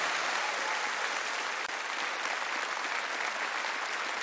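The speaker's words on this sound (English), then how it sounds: "How about a round of applause for all of these people on stage" A concert audience at a live show in Letterkenny, Ireland, breaks into sustained, dense applause, a full crowd clapping evenly throughout without a break.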